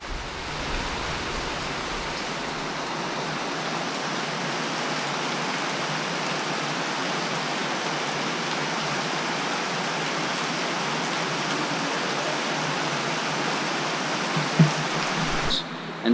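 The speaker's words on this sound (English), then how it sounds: "just the hardest it's been raining, and it's just been like that for the past 3 hours" Heavy rain pours steadily during Tropical Storm Lane, a dense, unbroken hiss of downpour close by that continues without letup for the whole stretch before cutting off at the end.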